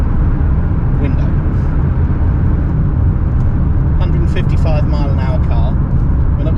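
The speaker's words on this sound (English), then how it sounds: "this one we've got quite a lot of wind noise coming from" Wind noise inside a moving Lexus LS430 sedan at speed, a loud, steady low roar and rush from the window with road rumble beneath, while people talk over it.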